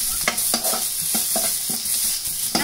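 Ginger garlic paste sautéed in a lightly oiled pan, a spatula scraping and tapping in a regular rhythm of about ten strokes over a continuous close sizzle, no voices.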